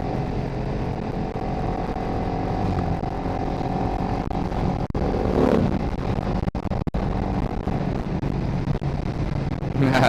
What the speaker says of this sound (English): got to warm up the tires, warm up the bikes, all that kind of good stuff.